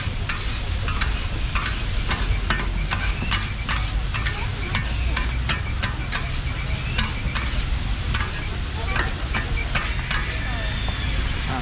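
Marinated pork fries with butter in a pan, a steady loud sizzle broken by the regular scrape of a spatula stirring the meat, continuing throughout.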